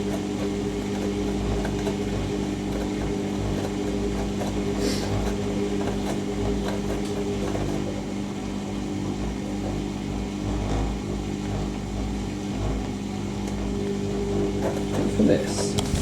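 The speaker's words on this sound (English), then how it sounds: "we are draining for the third and final spin" A Siemens WH54080 washing machine drains and spins at 800 RPM, giving a steady, loud mechanical hum with a low drone that holds evenly throughout.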